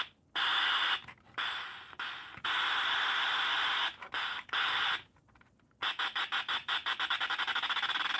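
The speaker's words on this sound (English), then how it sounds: "Some of them are just white noise." Harsh electronic white-noise hiss from a Fun Dimensions sound toy switching on and off in uneven bursts, then stuttering into rapid, regular pulses that speed up toward the end.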